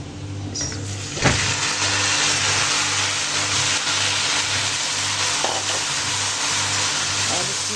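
Steady, loud sizzling of marinated chicken frying with onions in a pan for biryani, with occasional clinks and stirring noises over a low background hum.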